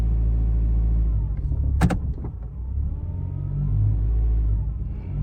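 Engine of a 2016 Mitsubishi Lancer with a failed transmission, heard close up as a low, droning rumble that swells and eases while the car is pushed, with a brief sharp clatter partway through and no speech.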